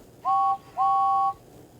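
Two clear whistle blasts from James the red steam engine, a short toot followed by a longer held one, bright and steady with a slight bend at each onset, sounding alone over a quiet background.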